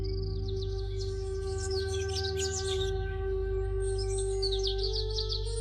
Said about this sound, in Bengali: পরদিন সকালে জঙ্গলে পাখির ডাক শোনা যাচ্ছিল।